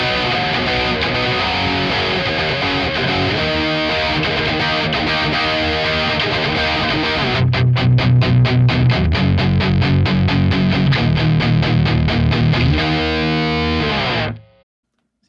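Electric guitar through a Marshall DSL20HR amp with the resonance turned up full, loud distorted playing that shifts midway into heavy, rhythmic palm-muted chugging with a strong low end, then stops abruptly.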